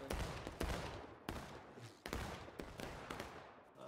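Massed musket fire from the Civil War video game War of Rights on a farmland map, with several sharp volleys and scattered shots cracking over a continuous battle din.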